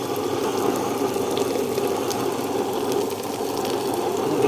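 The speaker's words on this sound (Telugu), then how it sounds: "గ్రైండర్లో కొంచెం గట్టిగా రుబ్బుకోవాలి." A wet grinder churns batter for ash gourd vadiyalu in a continuous, even mechanical whirring hum with a watery, gritty texture, close and steady throughout, with no talking.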